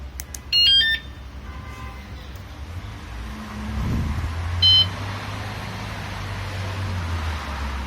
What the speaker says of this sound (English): See, it beeps after the initial beep.